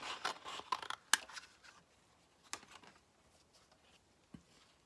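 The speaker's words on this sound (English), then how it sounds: "I just cut things out freehand." Paper or card being cut freehand with scissors to make stencil shapes for texture paste work, a few close, crisp snips and rustles at the start, then quieter scattered cuts with near silence between.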